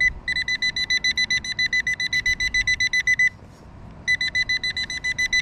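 Rapid electronic beeping from a detector while digging for buried items in a back yard, loud, even pulses in a fast steady rhythm, pausing briefly before resuming, with no talk.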